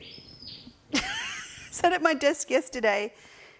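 Nesting birds chirp outside a window, a quick run of bright tweets, while a person talks in the foreground.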